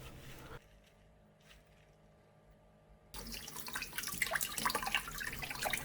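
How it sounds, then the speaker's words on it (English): Water suddenly gushes through a cleaned shower head after a quiet stretch, a loud, close, continuous spray splashing with sputtering bursts. "Run water through the head to release any deposits remaining"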